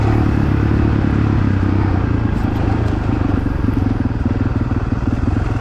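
A Suzuki DRZ400E dirt bike engine, racing cross-country at the Crossroads XC event, roars loud and close in a steady, throbbing drone with rattling clatter throughout.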